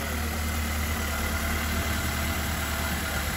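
A Honda Accord CB7 engine idles steadily after a fuel pump replacement, a low, even rumble that stays constant and fairly quiet throughout, with nobody talking.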